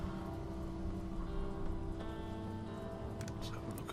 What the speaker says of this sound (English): Well, it is raining, isn't it?